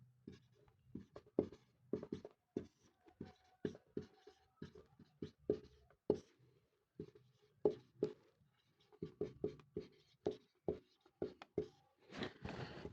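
Writing on a board during a 12th-grade physics lesson on electrostatics produces quick bursts of scratchy, tapping strokes with short gaps, close and fairly quiet.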